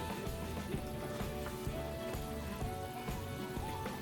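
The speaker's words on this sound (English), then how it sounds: "in this skillet right here, we're going to add a little butter" Butter sizzles in a skillet while cooking begins for a shrimp, crawfish and sausage étouffée, a soft, steady crackle and hiss heard fairly quietly and continuously with no voices.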